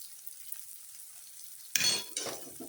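Sweet potato sheera stirred with ghee in a pan: after quiet, a spoon scrapes and sizzles through the mixture in two short close strokes.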